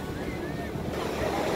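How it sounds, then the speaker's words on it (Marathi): Ocean waves wash in at Golden Beach in Puri, a soft continuous surf rush mixed with wind buffeting the microphone, fairly faint and steady over a brief moment. "लाटाच लाटा."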